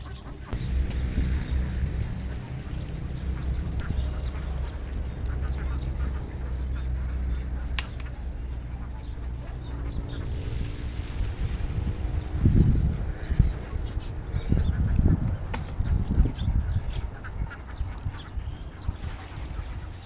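Domestic ducks feeding outdoors give a scattered chorus of quacks and low honking calls over a steady background rumble, growing busier toward the middle and end.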